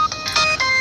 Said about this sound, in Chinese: 我先接个电话 啊。